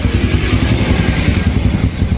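A Honda Supra 100 motorcycle engine runs steadily up close, a continuous low mechanical rumble with faint clatter and no voices.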